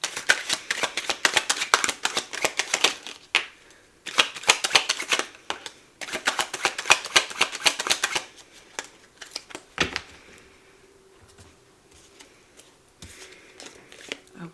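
Message cards for a card reading are shuffled in brisk riffling bursts with short pauses between them, close and crisp, then a few soft taps and handling sounds as the shuffling stops.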